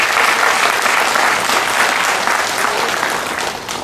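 Steady, dense audience applause at a Hindi spiritual discourse, loud and continuous throughout with no speech over it, tapering slightly toward the end.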